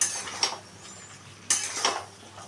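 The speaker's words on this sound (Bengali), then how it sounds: "ভাজা গুঁড়ো মশলা দিয়ে আমি ভালো করে এবার কষিয়ে নেব আলু পটলটার সাথে" Roasted ground spices stirred into potatoes and pointed gourd in a pan for a vegetarian Bengali dalna, two or three scraping clinks of a spoon against the pot over a faint background, close and brief.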